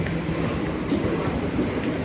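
A train at an Indian railway station gives a steady, low rumbling drone with faint rattling, continuous and fairly close throughout the short stretch.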